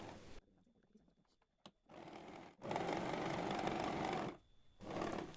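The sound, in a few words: sewing machine stitching a shawl strip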